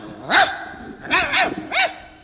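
A mimicry artist voices dog barks on a comedy stage: three loud, close barks, one single and then a quick double and another, each sharp and yelping, with a quiet pause between.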